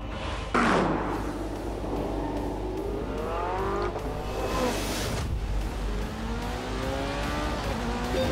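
A McLaren and a Porsche on shakedown laps in The Grand Tour video game, engines rising and falling through gear changes with a screech of tyres, loud and continuous throughout.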